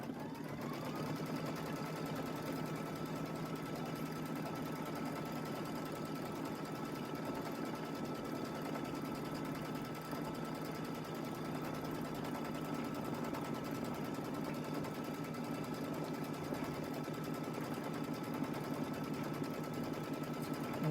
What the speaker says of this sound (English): we'll go ahead and let that sew out